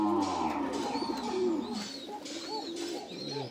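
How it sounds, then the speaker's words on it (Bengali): A female pigeon, just taken out of breeding, gives several rolling low coos in a row, close and clear, with other birds chirping faintly behind. "এই হলো মাদি কবুতর।"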